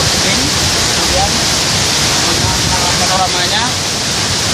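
Karawawi waterfall at Nusaulan pours steadily, a dense, loud, continuous rush of falling water filling the scene without a break.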